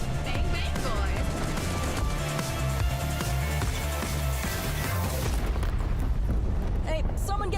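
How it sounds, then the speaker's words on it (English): Heavy booming blasts from an airstrike in a sci-fi shooter video game roll out loud and dense over battle noise, with voices shouting over the din. "Incoming airstrike!"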